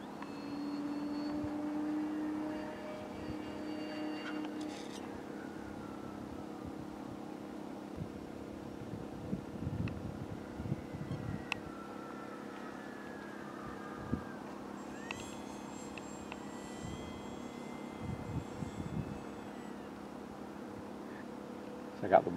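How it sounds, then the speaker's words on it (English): A Durafly Excalibur RC model airplane flying, its motor giving a steady distant drone that holds throughout, with faint whines and small bumps now and then and a voice heard briefly. "this is the Excalibur warm liner. Flies good."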